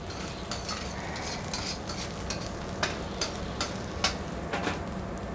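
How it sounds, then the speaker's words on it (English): Garlic sautés in olive oil in a pan with a soft, steady sizzle, broken by repeated utensil clicks and scrapes as it is stirred, close and moderately quiet. "Let that saute a little bit and release the bouquet."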